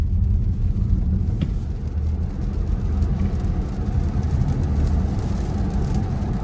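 A 450+ hp 2024 Dodge Charger electric car accelerates with traction control off, giving a steady, loud low rumble of motor and road noise throughout with no voices.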